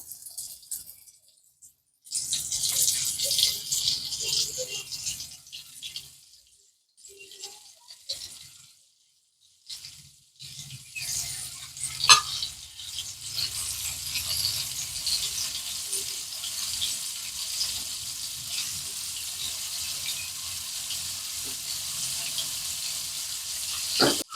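Flour-coated pakoras fry in hot oil with a steady bright sizzle that cuts out in short gaps and then returns, crackling close by.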